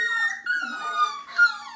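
A puppy whimpers and squeaks in a few high, thin whines close by, with no talk over it.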